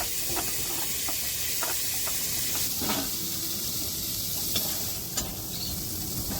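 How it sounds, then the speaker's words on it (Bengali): Cauliflower fries in a pan for a vegetarian cauliflower and potato curry, with a constant close sizzle and hiss and light scraping stirs at intervals. "মা তরকারি বসিয়েছে অনেক ফুলকপিটা ভাজছে"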